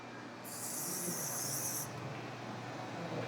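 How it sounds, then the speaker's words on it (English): A short, close hiss of light hair-holding spray is applied during a taper fade haircut, lasting about a second and a half over a quiet room. "Now we spray our holding spray."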